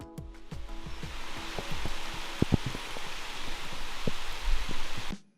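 Rain coming down along a forested trail in Virgin Islands National Park, a steady broadband patter with scattered heavier drips and droplet hits close by, continuous for several seconds before cutting off abruptly.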